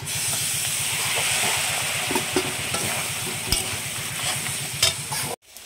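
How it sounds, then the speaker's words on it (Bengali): Jackfruit curry sizzling and frying in a pan with hot water added, a continuous loud hiss and steam with steady rhythmic stirring scrapes, ending abruptly. "এখানে একটু গরম জল দিয়ে আমি সুন্দর করে কষিয়ে নেব এটা।"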